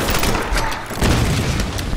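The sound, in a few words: gunfire in the video game Tomb Raider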